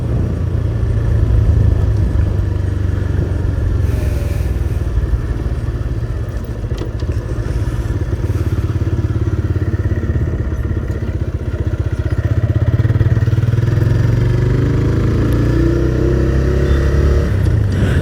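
TVS Raider 125 motorcycle engine idling and running close by, a continuous low rumble with mechanical clatter and a few gentle swells in revs throughout.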